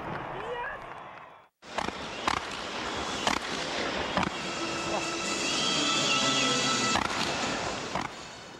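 Fireworks burst at a distance in a series of sharp cracks and pops, irregularly spaced over a continuous rumbling, crackling wash.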